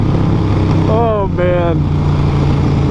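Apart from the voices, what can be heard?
Harley-Davidson Sportster Roadster motorcycle engine accelerating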